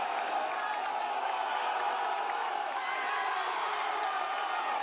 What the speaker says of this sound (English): the crowd in this particular cyclocross is absolutely insane